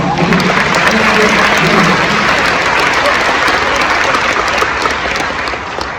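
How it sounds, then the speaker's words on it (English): Steady, dense applause from an audience fills the whole stretch, loud and even, tapering slightly at the end. "Give yourself a round of applause."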